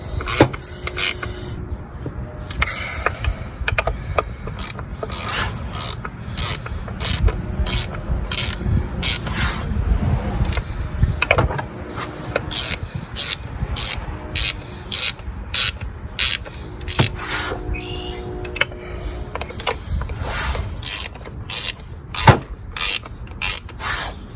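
A hand ratchet tightens valve cover bolts on a 2006 Buick Lucerne, producing long runs of rapid close clicking strokes in bursts with brief pauses and faint metallic handling between.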